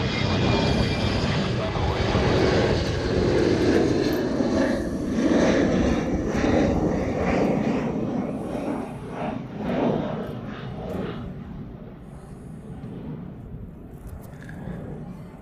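Military jets departing a Honolulu, Hawaii runway, German Eurofighters and F-35s, a steady broad engine roar that holds loud and then slowly eases as the aircraft draw away, with faint radio-style voices under it.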